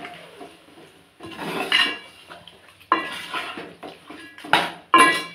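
A spoon clanks and scrapes against a metal pot as chicken pieces are mixed for a curd chicken curry, several sharp bright clinks in bursts with short pauses between, close and fairly loud.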